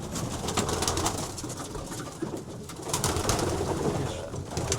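Racing pigeons in a German loft give a steady low cooing chorus amid busy background rustle, with no one talking.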